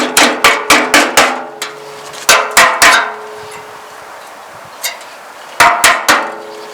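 Sharp metallic blows ring out while damaged sheet metal is cut from an old wheelbarrow tray, in quick bursts of three to five strikes separated by pauses, close and loud.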